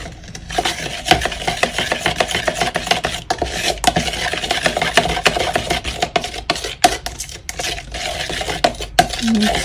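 Soap batter being stirred in a container, a steady clinking, scraping mix of utensil against vessel running throughout, fairly close and continuous with brief pauses.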